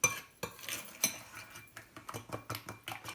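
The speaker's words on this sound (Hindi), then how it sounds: "मिक्स कर लेंगे और इसका एक रोगन बना लेंगे हमारे नानों के ऊपर लगाने के लिए" Fresh milk being mixed in a bowl for a roghan glaze for naan, heard as a run of sharp clinks and scrapes of a spoon against the bowl in an uneven, quickening rhythm, close and fairly quiet, with no talking.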